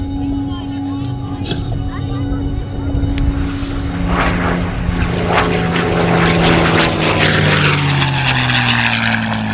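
A P-51D Mustang propeller warbird flying aerobatics at the Warbirds Over Monroe 2023 airshow, its engine roaring loud and continuous with pitch sweeping down as it passes, while an announcer talks over it.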